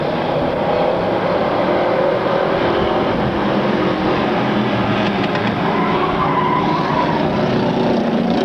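Race cars roar around a track in a continuous loud, dense blur of engine noise, with several cars running close together and no pause in the sound.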